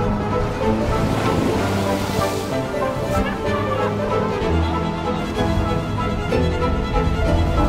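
Rough sea surges and crashes continuously around a moving vessel, with wind and a low engine drone beneath the roar of the water.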